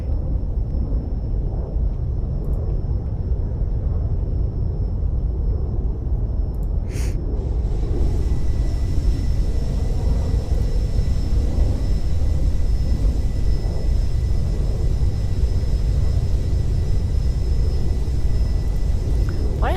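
Engine drone of an airplane flying in the video game Aeronautica, a constant low rumble with a thin high whine, steady and unbroken, a short click partway through.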